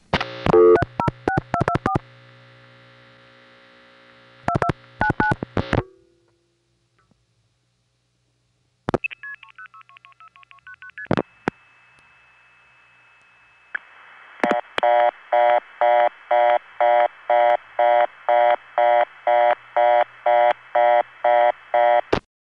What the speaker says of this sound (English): You can hear how this MF sender at Hempstead is slower than the last one.